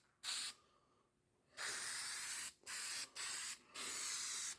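Rust converter sprayed from an aerosol can onto a rusty header panel underneath a 1971 Ford Torino GT: a short hiss, a pause, then four close, loud spray bursts with brief gaps between them.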